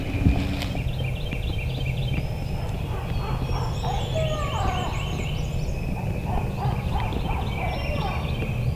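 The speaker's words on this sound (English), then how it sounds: "right where that bird was gobbling at" A wild turkey gobbles on public land in Missouri, several rattling gobble bursts in the middle stretch, moderately distant, set against steady outdoor background noise with no speech.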